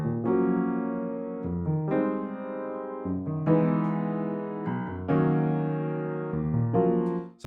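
Wing Upright Piano keys through the Dark Indie patch in Omnisphere, dry with no plugins, play sustained chord changes in a slow steady progression, close and alone.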